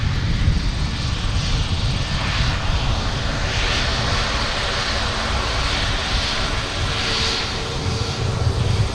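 An Icelandair airliner jet rolling along an airport taxiway at Minneapolis–Saint Paul, a loud, steady broadband engine roar with deep rumble, continuous and close.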